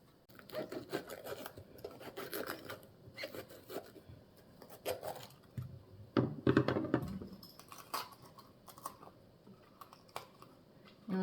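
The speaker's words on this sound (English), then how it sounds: "I'm going to have to cut the stems off, cut the core out, and then get the seeds out of there" A knife cuts stems and cores out of bell peppers being prepared for marinating, giving close, irregular taps and scrapes on a board with a few louder clustered cuts, no talking.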